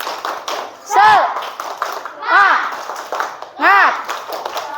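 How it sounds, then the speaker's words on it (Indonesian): Classroom students do a rhythmic spirit clap, short bursts of group clapping and taps alternating with loud chanted voices from the children. "sebelum melakukan kegiatan berkelompok, tepuk semangat terlebih dahulu ya"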